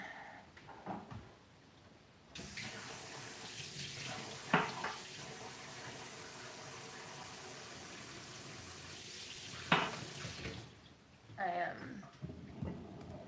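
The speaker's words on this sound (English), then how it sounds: "let me wash this Instant Pot" Water runs steadily from a kitchen tap into a sink while an Instant Pot is washed, with two sharp clanks of the pot and a soft voice near the end.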